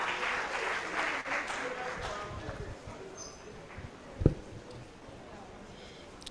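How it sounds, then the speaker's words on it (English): An audience at a dental students' association event applauds as two student presidents come onto the stage, a crowd clapping that fades toward the end, with a sharp thump partway through and some voices underneath. "A round of applause for both of them."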